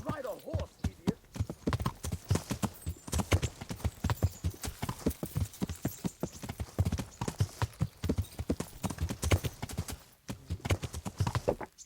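Horse hooves clip-clop in a steady, repeated rhythm while riding in the medieval role-playing game Kingdom Come: Deliverance, loud and close, with speech over the hoofbeats.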